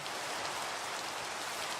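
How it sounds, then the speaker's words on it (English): Steady, faint rainfall from the video game Minecraft hisses evenly throughout, with no speech over it. "It's raining."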